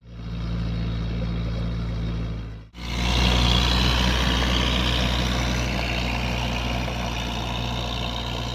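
A farm tractor engine runs steadily at close range in a muddy field, a loud continuous rumble that briefly cuts out and then resumes with a heavier, rougher drone for the rest of the stretch.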